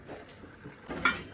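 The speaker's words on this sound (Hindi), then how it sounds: "अमरीना बर्तन धोने लगे हैं।" Dishes, pots and utensils clink and clatter while being washed, with soft scattered knocks and one sharper metallic clank near the end, fairly close by and without speech.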